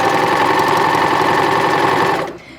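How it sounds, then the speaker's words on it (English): A serger running steadily as it sews a dense rolled hem along the edge of fabric, a loud, continuous mechanical whir with rapid stitching rhythm that winds down and stops at the end. "We're just gonna insert our fabric into the serger."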